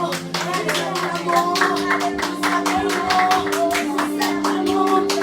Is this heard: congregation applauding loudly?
yes